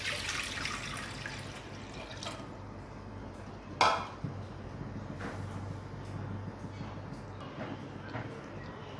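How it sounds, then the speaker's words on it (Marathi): Water being poured into a cooking pot for making jowar (sorghum) papad dough, a steady splashing trickle with a few clinks of the vessel, close by and fairly quiet, with no talking. "त्यात जेवढं पीठ होतं तेवढंच आपण पाणी टाकणार आहोत"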